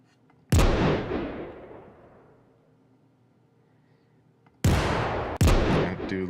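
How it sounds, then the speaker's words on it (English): Designed explosion effects for a game: one sharp, heavy blast with a long rumbling decay into near silence, then two more booming hits in quick succession near the end. "I do like that explosion sound."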